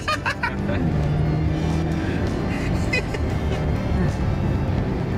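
Mercedes-Benz E300e EQ Power plug-in hybrid sedan pulling hard from inside the cabin: a steady, loud, broadband drive rumble with a low tonal hum that holds evenly for about five seconds, with faint voices in the cabin.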